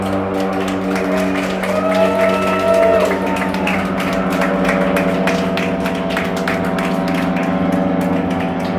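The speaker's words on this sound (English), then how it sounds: "Give an alligator some applause" Audience applause at an alligator demonstration in the Everglades, a sustained crowd clapping with scattered cheers, loud and close, alongside steady low background hum and no talk.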